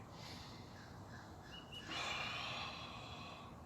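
A slow, even breath drawn in and let out in a steady pendulum rhythm, close and soft, with a slightly stronger airy exhale in the second half and no talking.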